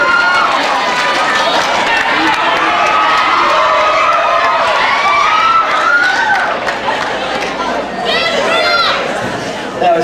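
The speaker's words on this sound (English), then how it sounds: "We thought you were cheering for us" A live show audience at a birthday event in Vegas cheers loudly and steadily, a dense wash of shouting and whooping voices lasting several seconds that fades slightly near the end.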